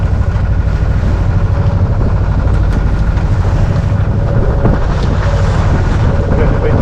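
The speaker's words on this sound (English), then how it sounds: "Getting a bit choppy here now, but it is wind against tide." Sailboat heeling through choppy water as wind blows against the tide, with steady loud wind buffeting the microphone and a constant rush of water and spray running throughout.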